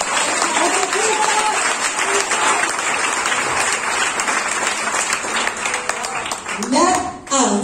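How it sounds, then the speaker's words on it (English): A church congregation claps and applauds steadily for several seconds, a dense, loud wash of hands with voices mixed in, thinning near the end. "Come on, let's clap our hands, you guys."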